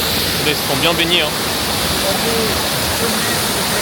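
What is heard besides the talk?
waterfall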